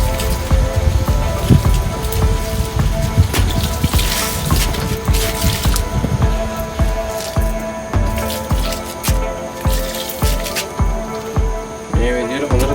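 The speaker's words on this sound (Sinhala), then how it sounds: "දැන් මේ සති 3කින් තියෙන මම මේව හොඳට මේකට වතුර දානවා" Water splashes and drips onto a young bonsai plant and its soil, with a steady run of irregular patters and droplet hits that grows more rhythmic in the second half, close up and moderately loud, with talk in between.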